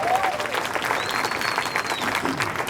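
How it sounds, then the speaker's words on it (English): Audience applause for the Blue Diamonds at a regional training event in a hall, a steady dense wash of clapping lasting the whole stretch with a faint crowd murmur underneath. "Big hand clap for them again."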